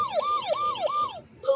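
A Vtech Turn & Learn Driver toy's police siren warbles up and down in quick, repeating swoops, three rapid cycles, then breaks off into a short chirp. Close and fairly loud.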